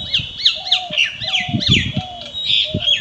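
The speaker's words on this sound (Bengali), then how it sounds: "পাখির ডাক শুনতে খুব বেশি ভালো লাগে।" Common myna birds call nearby in rapid, repeated chirps and whistles, layered over low outdoor rustling and thumps.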